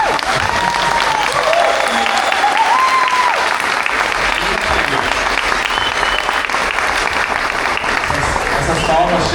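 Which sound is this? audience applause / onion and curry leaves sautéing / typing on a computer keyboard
audience applause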